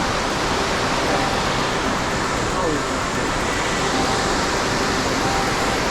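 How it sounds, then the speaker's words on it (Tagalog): Washpen Falls waterfall in New Zealand, a steady, loud broadband rush of falling water that stays constant throughout, close and continuous with no break. "Ito ang tunay na Washpin Falls."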